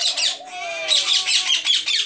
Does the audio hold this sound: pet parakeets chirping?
yes